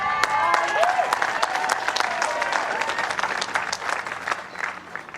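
Crowd applause at a men's triples lawn bowls final between Australia and England, a sustained burst of clapping from spectators outdoors, fairly close and steady, fading slightly toward the end.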